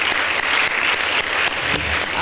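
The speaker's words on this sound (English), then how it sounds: "let's give a great a round of applause to our morning speakers" Audience applause for a conference's morning speakers, a steady dense wash of many hands clapping that stays loud and continuous throughout with no talking over it.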